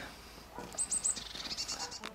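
A goat bleats in short, high, wavering calls, several in quick succession, fairly close and moderately loud, with no other voices over them.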